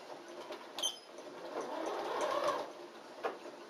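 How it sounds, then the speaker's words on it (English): A sewing machine runs steadily while stitching a hat crown to the brim, a continuous close mechanical whir with a couple of brief clunks, heard alone without talk. "I could keep on going in my regular stitch length and finish that off."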